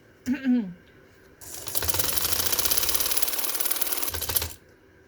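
A sewing machine stitches along a fabric edge with a fast, even mechanical clatter, close and steady for about three seconds before stopping, preceded by a brief voice.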